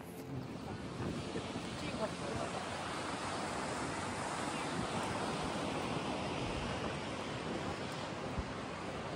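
Steady wind gusts across the microphone on a footbridge in Cornwall in a continuous rushing roar, fairly loud and unbroken, with a watery wash beneath.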